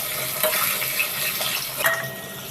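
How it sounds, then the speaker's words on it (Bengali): Jackfruit seeds fry in hot oil with spices, giving a continuous close sizzle with a few stirring scrapes and light clinks over a few seconds. "এবার কাঁঠাল গুটিটা একটু ভাজা হবে"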